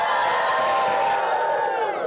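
Excited crowd cheering at a Trane Technologies company event in Columbia, a steady wash of shouts and whoops held at an even, fairly loud level throughout, with no clear individual voices standing out.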